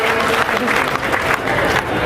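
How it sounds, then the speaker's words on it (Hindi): Audience at a Hindi comic poetry recital applauding together: dense, steady clapping that fills the whole stretch with slight swells and no pause. "दोनों हाथ उठाकर तालियां बजा करके बताएं सारे के सारे"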